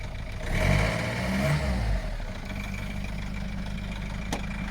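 A cold car engine turns over and settles into a steady idle, with a brief louder surge at the start, then a constant low rumble close by.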